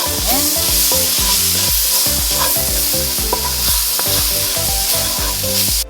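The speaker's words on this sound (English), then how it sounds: "you're going to take your tomatoes, add them in" Tomatoes hit a hot pan of cooking spices for shakshuka, giving a loud, steady sizzle with stirring scrapes throughout; musical tones and harmonics run underneath, with no voices.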